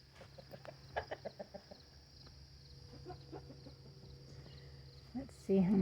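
Hens on a homestead give a string of short, soft clucks early on, then scattered quieter clucks and calls over a faint insect hum, with a louder squawk near the end.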